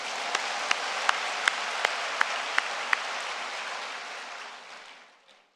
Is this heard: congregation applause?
yes